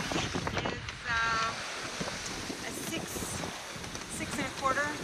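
Wind rushes steadily over a sailboat under reefed sail in a 17-knot breeze, with water washing along the hull; people talk over the continuous broadband roar.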